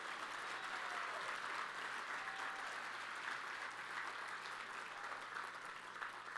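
An audience at a university awards evening gives a steady round of applause, a continuous even patter of many hands heard at a moderate distance throughout, with no talk over it.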